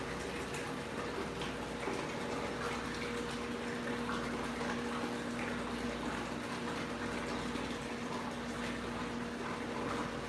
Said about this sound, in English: the background is the water running for the dyno